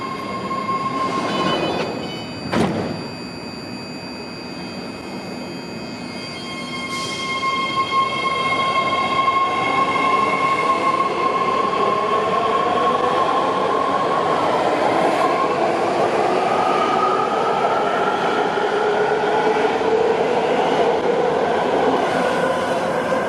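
BART Green Line train to Daly City at a crowded Hayward station platform, loud and near, with an early clank, then a building rumble and rising wheel squeal as the cars roll past for over twenty seconds.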